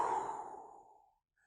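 A single deep exhalation during a pranayama breathing exercise, a soft, close breathy sigh that fades out over about a second into silence.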